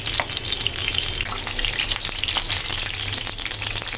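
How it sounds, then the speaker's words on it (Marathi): Brinjals frying in hot oil for a spicy Marathi-style masala vangi, a steady close sizzle and crackle running throughout with no voices. "हेच आपण वांगे तळून घेऊया."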